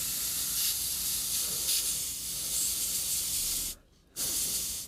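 An airbrush sprays contrast paint onto a Kingdom Death Black Knight miniature, a steady close hiss that stops briefly for a moment before starting again, with no talking.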